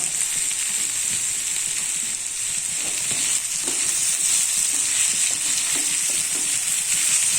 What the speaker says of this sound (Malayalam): നോൺ സ്റ്റിക്ക് പാത്രം ആയാലും ഇടയ്ക്കൊന്ന് തുറന്ന് ഇളക്കി കൊടുക്കണം.